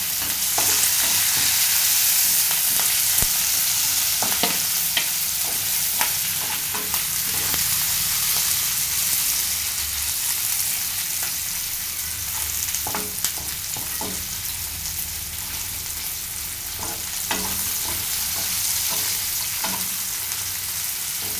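Green chillies added to already fried onions in a pan for egg curry, giving a steady, close sizzle throughout with scattered light stirring clicks.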